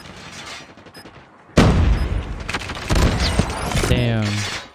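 A grenade blast bursts loudly in Call of Duty Mobile during a bomb-planted round, a sudden boom following quieter gunfire, with crackling debris and further shots trailing after.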